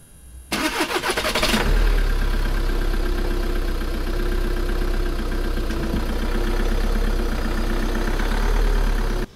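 A Harley-Davidson chopper motorcycle engine fires up after a brief crank, then settles into a loud, steady, deep idle rumble close by that runs unbroken to the end.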